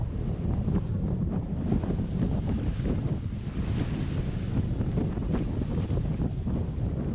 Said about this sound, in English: Wave Rover is beating to windward as she battles 25-knot winds.